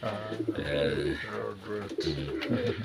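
Pigeons coo in low, repeated rumbling phrases, close and steady across the whole stretch with a few overlapping calls, set among fostering pigeons kept by a poultry enthusiast.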